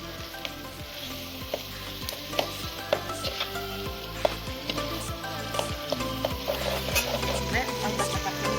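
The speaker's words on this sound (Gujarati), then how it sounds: "હવે આપણે ઓરો નાખી હલાવી એટલે ઓરો તૈયાર." Roasted eggplant mash for ringan no oro sizzles in a pan while a spoon stirs it, with steady frying crackle and repeated scraping strokes up close.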